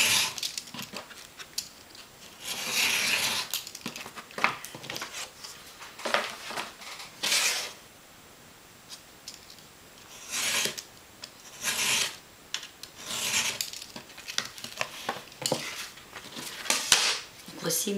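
A utility knife slices rectangles of paper for a small notebook, giving raspy scraping strokes in a series of short bursts, close and fairly loud, with quiet pauses between cuts.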